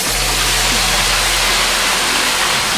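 Water goes into a hot pan while Kung Pao chicken cooks, giving a loud, steady rushing hiss that fills the whole moment with no talk.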